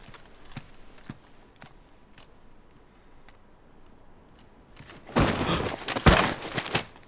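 Horse hooves clip-clop in Final Fantasy XVI, a steed being readied at a palace: sparse, faint ticking steps at first, then a louder, busier clatter of hooves near the end.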